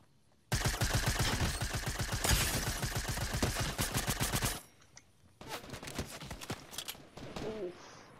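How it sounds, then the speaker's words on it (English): Gunfire in the Fortnite video game: a long loud burst of rapid automatic shots lasting several seconds, then quieter scattered shots and distant firing after a short pause. "Who else is shooting at me?"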